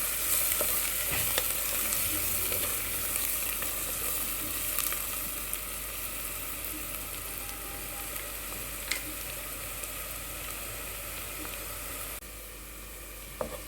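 Sliced onions with turmeric fry in a pan for a curry, giving a steady, loud, continuous sizzle that runs unbroken throughout and eases slightly near the end.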